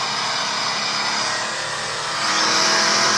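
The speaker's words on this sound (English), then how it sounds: "He's driving the Chevelle." Chevrolet Chevelle engine playing from a video, a steady loud drone that swells slightly toward the end, heard alone with no talk over it.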